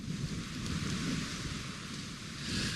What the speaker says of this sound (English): we're really feeling this rain and wind pick up